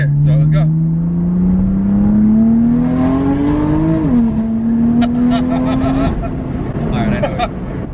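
A BMW F80 M3 on a Bootmod3 Stage 2 tune makes a full-throttle pull, its engine note climbing steadily and dipping at a gear change before climbing again. The car is loud and close, with voices briefly over the end.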